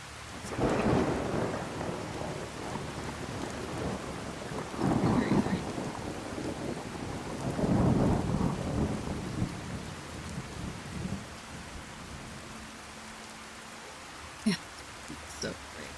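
Thunderstorm rain in Fallout 4 hisses steadily while deep thunder rumbles roll in three big swells, with a few sharp crackles near the end and a voice talking over it.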